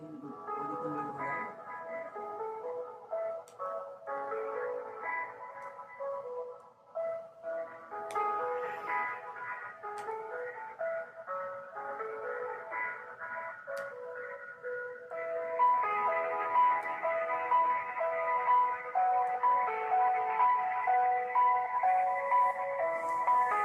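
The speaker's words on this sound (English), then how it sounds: "You'll hear music while we do this" Synthesized telephone hold music on a crisis line plays continuously, a bright tinkly melody over soft chords at steady volume, with no voices.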